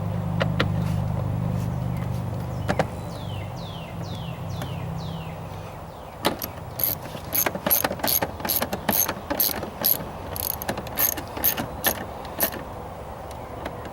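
Ratchet driving metal screws into a plastic air filter housing on a GM Traverse, Acadia, Enclave or Outlook, a long run of sharp, evenly spaced clicks, close and fairly loud over a low steady rumble.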